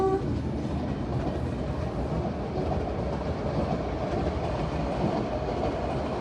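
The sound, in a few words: small train passing at a level crossing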